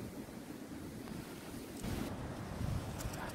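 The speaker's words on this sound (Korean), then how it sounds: "바람 많이 부네요." Strong wind gusts buffet the microphone on a rocky, sloping mountain trail at Popolopen Torne in November, a steady roar that swells louder partway through, with no voices.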